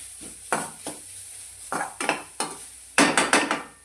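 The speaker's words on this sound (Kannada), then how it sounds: "ಕೆಂಪು ಖಾರ ಅರಶಿನ ಇದನ್ನು ಚೆನ್ನಾಗಿ ಈ ಥರ ಫ್ರೈ ಮಾಡ್ಕೋಬೇಕು" Red chili powder and turmeric frying in a pan, with a metal spoon scraping and clattering against the pan in several sharp, close bursts, the louder ones clustering near the end.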